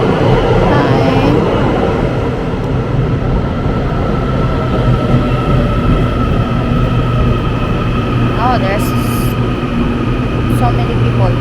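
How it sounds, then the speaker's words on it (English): The number 2163 train bound for Taichung pulls into a station with a loud, continuous rumble and steady mechanical drone lasting throughout, and a voice speaks briefly over it. "So the number 2163 going to Taichung is arriving right now."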